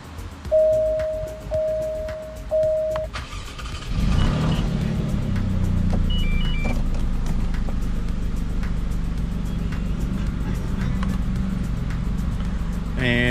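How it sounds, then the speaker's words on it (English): An Alfa Romeo Stelvio or Giulia is started: a few chime beeps first, then the engine cranks and catches, settling into a steady close idle for the rest of the clip. "Let's turn the car on."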